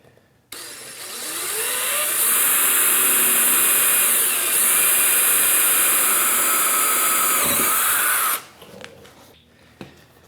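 A loud, steady power-drill whine runs for about eight seconds as a number 21 bit drills a tapping hole in cast iron, with a slight pitch shift midway, then cuts out abruptly, leaving quiet clatter.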